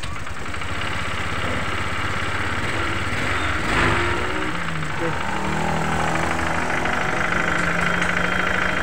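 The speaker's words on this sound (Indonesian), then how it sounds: "Kemudian kita hidupkan nih untuk motornya ya." A Honda Vario 125 scooter with a refilled radiator and an overheating temperature warning idles at a steady, even putter, with a person talking over it most of the time.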